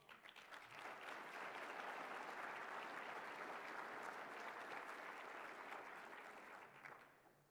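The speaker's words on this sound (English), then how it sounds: "They deserve a big round of applause." A conference breakfast session audience gives a sustained round of applause, a broad steady wash of many hands clapping that holds evenly for several seconds before tapering off, faint and somewhat distant.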